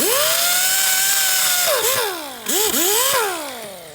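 An air tool fitted with a wire brush cleans a BMW wheel hub with a loud, close, high whine that holds steady, then dips and surges as the brush bites and releases the metal.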